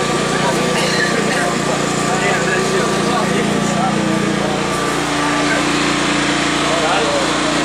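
A small engine runs and revs outdoors at an erosion and sediment control research site, a steady, loud buzzing drone that holds throughout with slight surges.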